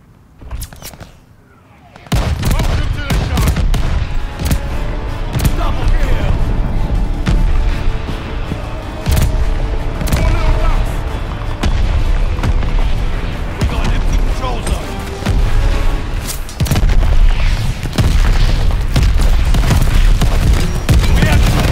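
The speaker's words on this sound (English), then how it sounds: "Allies calling a mortar barrage!" A mortar barrage in Call of Duty: Vanguard set on a desert patrol, with heavy booming blasts and scattered gunfire rolling loudly and continuously after a quiet start, mixed with shouting voices.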